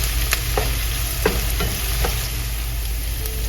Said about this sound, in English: Also throwing in some curry leaves. So let that fry down nicely.